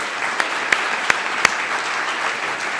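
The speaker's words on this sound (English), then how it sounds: "Let's give them a round of applause." Steady applause from a conference audience for a clean-energy business panel in Cleveland, a dense wash of many hands clapping throughout, with a few louder individual claps standing out.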